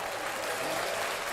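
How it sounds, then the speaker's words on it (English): Steady applause from a small crowd at a poker tournament room fills the whole stretch at an even level, dense and continuous. "On cue, Craig, with the applause"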